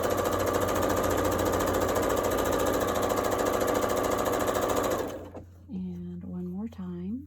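A sewing machine runs steadily stitching a quarter-inch seam with a flat presser foot, a dense continuous whir for about five seconds before stopping, after which a voice speaks.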